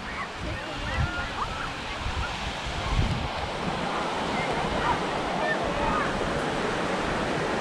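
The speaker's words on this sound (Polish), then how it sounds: "Wspaniała plaża." Waves break and wind blows at a Baltic Sea beach in Krynica Morska, Poland, giving a continuous, rushing surf wash with gusty microphone buffeting, while a person talks over it.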